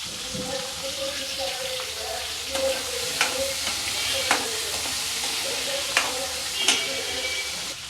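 Chopped large tomatoes sautéing in a pan with salt, a steady close sizzle with intermittent stirring scrapes and a few sharp utensil taps.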